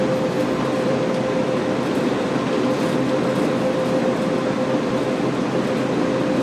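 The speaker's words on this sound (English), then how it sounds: "Massive loco, massive train, powering through the Cajon Pass with all our freight today." A BNSF ES44C4 freight locomotive pulling a heavy train through Cajon Pass in Train Sim World 3, a loud steady diesel drone with a constant low engine tone, unbroken and without talk.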